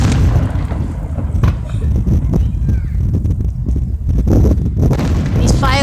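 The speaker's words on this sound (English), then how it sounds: "These fireworks are awesome." Fireworks burst in a string of loud, deep booms and crackles, several overlapping explosions close by, with a person talking between them.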